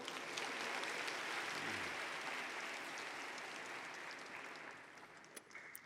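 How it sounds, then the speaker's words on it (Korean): Church congregation clapping for the speaker during a sermon, a faint steady rush of many hands that slowly tapers off, with a few sharper claps near the end. "여기서 박수."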